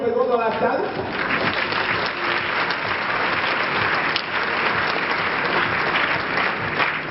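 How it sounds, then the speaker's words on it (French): An audience at a diploma ceremony applauds in a hall, dense continuous clapping from many hands, close and steady, with a voice briefly heard at the start. "veuillez aussi applaudir Monsieur Rufin Chikaya, le promoteur de cette école qui est présent dans la salle"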